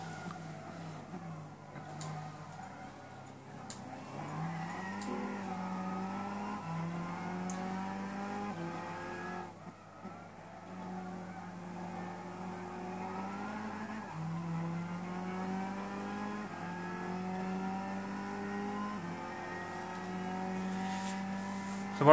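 Lexus SC450 GT500 race car in Gran Turismo 6 at the Nürburgring, engine note rising and falling through repeated upshifts and revs, with tyre squeal, steady and fairly quiet.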